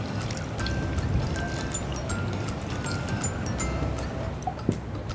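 Water poured steadily into a cooking pot with turmeric and other spices, a continuous close trickling splash lasting several seconds with no talk.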